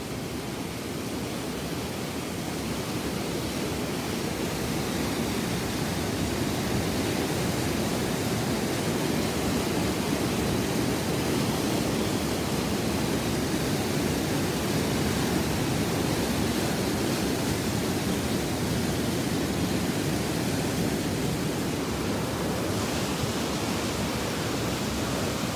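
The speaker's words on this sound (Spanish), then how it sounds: "estar al lado de la bomba, se escucha la fuerza y la cantidad de agua" Water rushes from a large pump where it meets the Duero river at El Capulín, Michoacán, Mexico. It makes a steady, loud, broadband roar that runs unbroken from start to end, with no voices.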